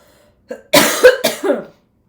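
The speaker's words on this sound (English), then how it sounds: "I have to cough." Several harsh coughs come close together, loud and close, followed by silence.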